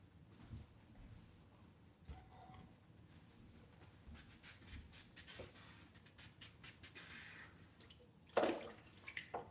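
Water runs and splashes in a kitchen sink during dishwashing, a steady soft flow with intermittent clinks and drips, fairly quiet and close.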